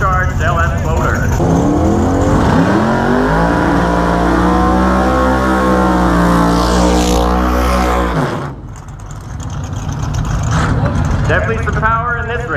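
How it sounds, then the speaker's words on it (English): A purple Camaro and a silver Nova with a turbocharged LS engine idle at a no-prep drag race starting line, a loud deep engine drone with rising revs, then a brief dip before the engines build again, with an announcer talking over them. "Coming up to the starting line now in the left lane, we got Dean Smith and his Purple Camaro."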